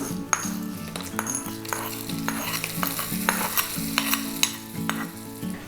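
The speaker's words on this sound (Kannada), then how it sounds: "ಈಗ ಇದಕ್ಕೆ ಒಗ್ಗರಣೆಯನ್ನು ಸೇರಿಸ್ತಾ ಇದ್ದೀನಿ" Hot tempering sizzles and crackles as it hits a thambuli made with Indian borage leaves, with occasional clinks of utensils and a soft tune playing underneath.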